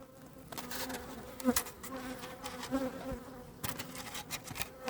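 Dense, steady buzzing of many honeybees close by at a hive, a continuous hum with individual bees passing nearer now and then.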